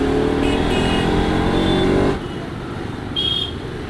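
A motorbike runs after its service, a loud close engine note with tonal harmonics that drops to a rougher, lower idle-like rumble halfway through, with a brief higher whine near the end.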